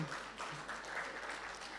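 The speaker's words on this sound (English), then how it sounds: "Clap for him, he's done well." Audience applause at a university orientation for fresh students, a steady patter of many clapping hands heard at moderate distance for a couple of seconds.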